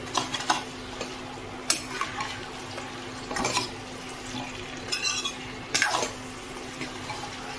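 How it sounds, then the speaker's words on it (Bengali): Chicken and onion sauté on high heat in a pan, with a soft sizzle beneath intermittent scraping and clinks of a utensil against the pan, close and moderately quiet. "হাই হিটে রেখে আমি 5 মিনিটের মতো চিকেনটা পেঁয়াজের সাথে একটু কষিয়ে নেব।"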